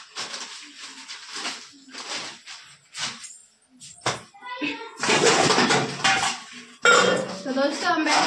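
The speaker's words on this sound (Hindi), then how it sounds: "दोस्तों हम बैठे हैं बर्तन धोने" Steel pots, pans and cutlery being washed by hand outdoors, with repeated clanks, scrapes and splashing water at close range, while a person talks.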